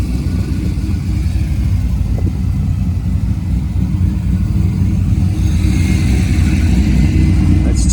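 A Corvette C5 idles steadily after its coolant tank has been replaced, a loud, even low rumble that holds throughout with no revving.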